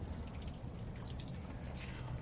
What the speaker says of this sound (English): We're, dripping some mud here